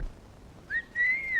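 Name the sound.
person whistling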